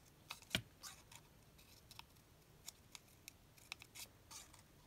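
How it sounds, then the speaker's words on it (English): Scissors snip paper for a craft project, a series of faint, close, crisp cuts in an irregular rhythm against a quiet room. "I'm just going to snip in, going like the same direction against all of the roofs"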